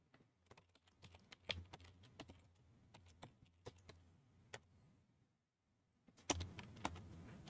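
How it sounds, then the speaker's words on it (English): Someone types on a computer keyboard while writing fantasy lore: irregular close key clicks with a brief pause, then a denser burst of keystrokes near the end, no voices. "You can hear me typing, likely."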